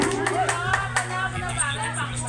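A family gathering at a home presentation, with a few people clapping sparsely and unevenly under ongoing overlapping voices and chatter.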